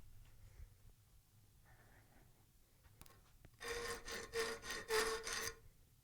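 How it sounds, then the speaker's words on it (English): A hand file rasps across a steel chef knife blade in about five quick, quiet strokes near the end, after a stretch of faint background noise. "Now we're going to do some file work."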